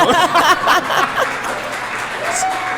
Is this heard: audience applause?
yes